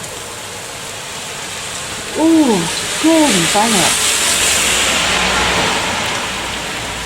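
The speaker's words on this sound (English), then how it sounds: "Tipping down. First proper rain since May." Heavy rain pours down steadily on a hillside garden, a broad continuous hiss with nearby splashing, while a person briefly speaks over it partway through.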